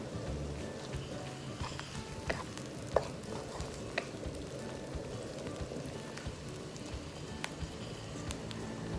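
Ham fries in a pan with a dense, steady sizzle, broken by frequent scraping stirs and small clicks of the utensil. The sound is close and continuous, with no talk.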